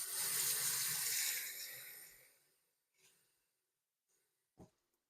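Running water splashes into a sink as leafy vegetables are put in to soak before cooking, a steady close rush that fades out, followed by a few faint clinks and a brief knock.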